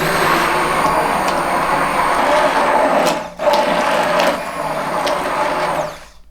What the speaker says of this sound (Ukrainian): все добре, збиваю знову блендером